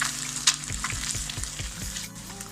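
Beaten eggs seasoned with salt frying in a pan for Tamil-style egg noodles, a steady close sizzle broken by a string of rhythmic scraping strokes as the mixture is stirred and spread.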